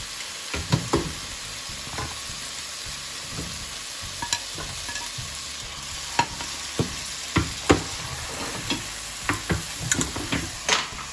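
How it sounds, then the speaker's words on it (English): Prawns fry in a pan of chilli spice mix for a restaurant-style dry chilli starter. A continuous sizzle runs under frequent irregular spatula clacks and scrapes that grow busier toward the end, close and fairly loud. "I'll be adding in the prawns now."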